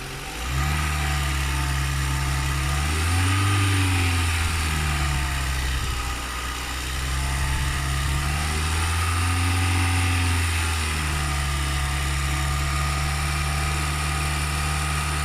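A car engine with a small coolant leak idles steadily up close and rises in pitch twice as it is revved, then settles back to idle.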